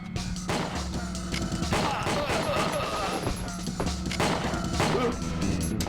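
Dual pistols firing in the PS3 shooter Winback during a boss fight against Death Mask and his two guards, dense rapid shots and impacts layered over steady game music and noise throughout.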